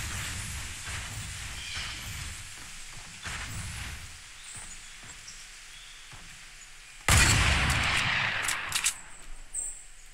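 Hunting rifle shots in Fortnite: several sharp reports spaced apart, the loudest a big close blast late on, with a tail of smaller pops amid quiet game ambience.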